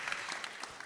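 An audience at a live conference stage event claps, a short burst of dense applause with a few sharper individual claps standing out.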